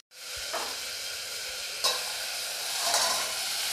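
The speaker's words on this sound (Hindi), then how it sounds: "टमाटर को पकते हुए" Tomatoes hit a hot pan and break into a sudden, loud, continuous sizzle that holds steady, with a couple of brief sharper spits along the way.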